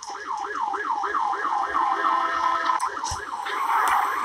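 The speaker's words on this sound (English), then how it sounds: "the guards have noticed you're gone. They've set off the alarm." A video game alarm siren wails in a steady, rapidly repeating up-and-down pattern, loud and continuous, with a few short clicks and game sounds over it near the end.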